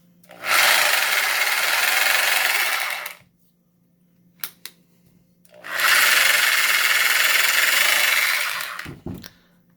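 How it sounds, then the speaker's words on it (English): A Harbor Freight Bauer 1-inch SDS D-handle rotary hammer with rough, dragging gears runs in two loud bursts of a few seconds each, separated by a quiet gap with a couple of short clicks and knocks. "Man, those gears, those do not sound particularly happy"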